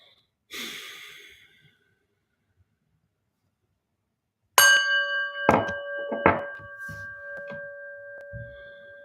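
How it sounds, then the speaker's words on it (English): A deep breath, then a prayer bell is struck once and rings out with a long, shimmering tone over faint rustling. "then I'll ring the prayer bell"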